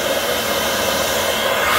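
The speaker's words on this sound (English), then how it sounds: "It's got the central vacuum system in it." A central vacuum system runs on a custom triple-decker houseboat, giving a loud, steady, unbroken whoosh of suction that holds at an even level from start to finish with no talking.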